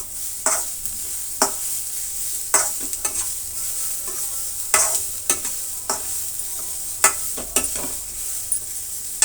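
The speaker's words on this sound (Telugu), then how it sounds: "ఒక అర్ధ నిమిషం పాటు మనము ఇలా ఫ్రై చేసుకోవాలి. క్యారెట్ అర్ధ నిమిషం అయితే చాలు." Carrots are stir-fried in a pan with a soft constant sizzle, broken by repeated scraping strokes of a spatula every second or so, close and clear with no talk.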